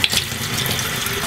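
Tap water runs steadily into a sink while quail cecal worms are washed down for collection, a continuous close splashing stream with no talk.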